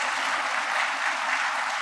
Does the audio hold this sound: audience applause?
yes